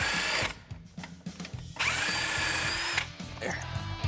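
Power tool spinning out strut bolts on a Spec Miata racecar, loud whirring and rattling impact bursts near the mic, with a steady mechanical hum throughout.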